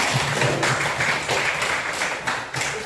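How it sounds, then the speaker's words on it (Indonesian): A group claps along in a fairly loud, steady wash of hand claps, with a faint rhythmic thump underneath. "Mari tepuk tangan semua."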